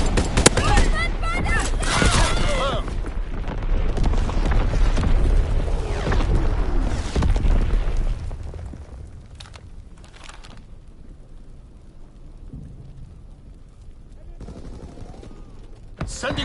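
A video game battle with incoming enemy artillery: loud, dense bursts of gunfire and booming explosions crowd the first half, then thin out to quieter scattered shots and rumble, with a voice speaking through the action.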